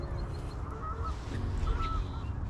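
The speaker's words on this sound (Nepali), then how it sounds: "यहाँ हाँसहरू उडिरहेको हुन्छ" Geese or ducks honk and call repeatedly near a residential area by water on an evening walk, several faint calls rising over steady outdoor rumble and wind.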